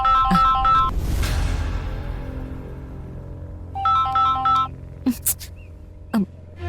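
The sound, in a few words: phone ringtone for an incoming call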